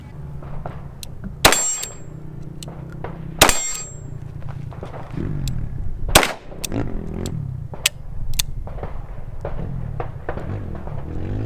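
A Colt Python .357 revolver fires brass-cased 125 grain rounds at a steel target, giving several sharp reports with ringing metallic clangs spaced seconds apart outdoors, plus fainter pings between them.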